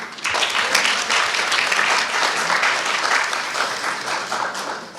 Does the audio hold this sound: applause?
yes